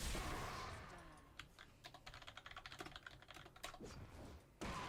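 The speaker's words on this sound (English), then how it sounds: "So I'm just typing that to my team" Rapid keystrokes on a computer keyboard mid-game in a League of Legends match, a dense run of close, crisp taps for a few seconds over quiet game background.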